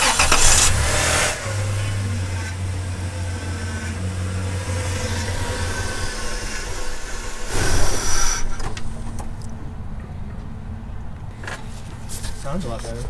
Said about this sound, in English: go ahead, Jack, start it, and then start turning the wheel